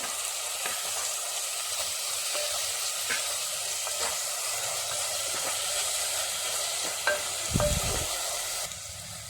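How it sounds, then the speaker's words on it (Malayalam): Chopped medicinal leaves sautéing in ghee for a healing soup, a steady low sizzle and hiss with faint stirring scrapes and one brief louder clatter near the end, no voices. "എന്നിട്ട് അതും കൂടി നമുക്കൊന്ന് വഴറ്റി കൊടുക്കാം."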